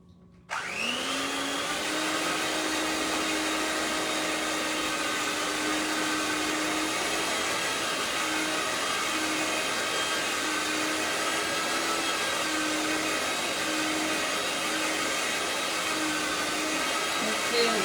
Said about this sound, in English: I believe this will make it thin when I use the Mixer.